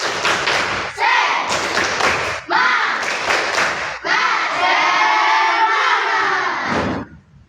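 Schoolchildren in an elementary classroom perform the tepuk semangat clapping chant in loud bursts of unison claps and shouted rhythmic syllables, with brief pauses between phrases before it ends.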